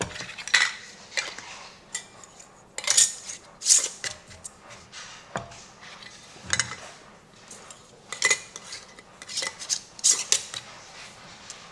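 Metal canning lids and screw rings clink and scrape onto glass jars in a kitchen, a series of sharp, irregular metallic taps and rattles with quiet gaps between them and no talking.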